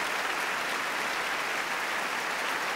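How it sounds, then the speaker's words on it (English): Sustained applause from a concert audience at the Proms in the Royal Albert Hall, following an orchestral performance of Les Illuminations with tenor Anthony Rolfe Johnson and conductor Neville Marriner. Dense, even clapping fills the whole stretch without pause. "the orchestra and Anthony Rolfe Johnson and Neville Marriner share the applause after their performance of Les Illuminations"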